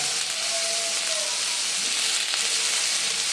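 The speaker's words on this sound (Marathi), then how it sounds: "थोडं कांदा लाल होईपर्यंत आपण परतवून घेऊया" Onion with garlic and chilli being fried and stirred in a pan for a Konkani vegetable dish, heard as a steady, close hissing sizzle throughout, with no speech.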